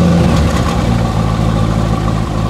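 A Corvette C5 with a 345 hp V8 runs in a dense, steady rumble, loud and close, with no one talking over it.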